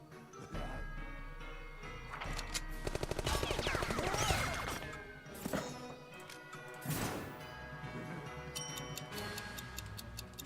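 Rapid gunfire bursts in the video game Penny Arcade Adventures, a dense run of sharp repeated shots with crashes and impacts layered over game music and effects, fairly loud and busy throughout.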